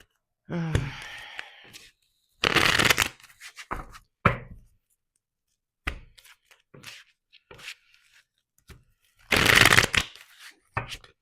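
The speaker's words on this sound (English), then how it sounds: "I'm still shuffling." Crisp bursts of cards being shuffled, several riffles spread over the span with pauses between, close and fairly loud, with some soft rustling and breathing.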